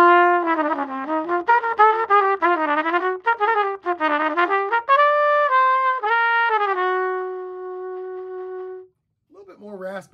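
A trumpet fitted with a Turbo Wood two-piece mouthpiece plays a raspy, close phrase of quick articulated notes, then holds a long sustained tone, followed by a brief voice at the end.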